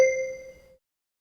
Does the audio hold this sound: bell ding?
yes